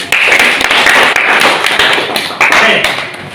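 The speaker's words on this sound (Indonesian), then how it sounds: "Oke, tepuk tangan dulu ya" A classroom of students clapping their hands in applause during a lesson, a dense continuous patter of many claps that swells and dips over a few seconds without pause.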